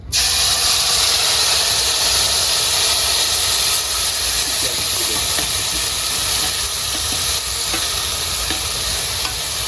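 Ground spice paste dropped into hot oil for a bata fish masala curry, a loud continuous hissing sizzle that starts abruptly and holds steady, heard close and alone.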